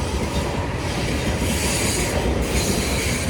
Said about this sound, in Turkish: Şimdi tren geçiyor.